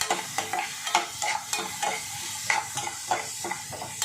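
Finely chopped carrots are tossed into a hot frying pan and stirred, giving a continuous sizzle with repeated scraping strokes of a spoon against the pan at a steady, brisk rhythm.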